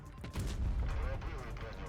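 A deep booming tank cannon blast in World of Tanks Blitz, with a rumbling low-end tail, set in a dense mix of game sound effects and background noise.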